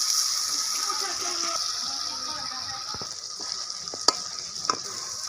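A little water goes into a hot frying pan of chopped tomatoes for a soybean, egg and potato dish, producing a close sizzle with stirring scrapes and a couple of sharp clinks.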